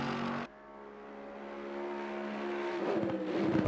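A GT2 racing car engine in a racing video game, on the Red Bull Ring, hums steadily after an abrupt cut, then swells toward a louder, rougher revving note near the end, with no talk.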